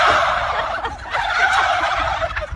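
A flock of ducks grazing together in a village, calling back in a dense, continuous chorus of overlapping honking cries, close and fairly loud throughout.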